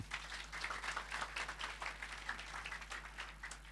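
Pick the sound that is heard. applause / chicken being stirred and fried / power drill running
applause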